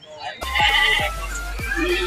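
Mini goats bleat at a busy outdoor goat market, several close, loud calls rising over a steady crowd murmur and low background rumble.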